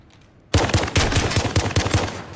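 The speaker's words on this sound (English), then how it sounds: "That's actually one of my favorite shotguns" Rapid repeated gunfire from a shotgun in a 1v1 gunfight video game, a burst of loud evenly spaced blasts starting abruptly after a quiet moment and continuing steadily, with no talk over it.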